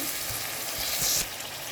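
Pieces of gaanti kochu (taro) hit a hot pan and sizzle steadily, a close continuous frying hiss with a brief louder burst of crackle partway through, no voices.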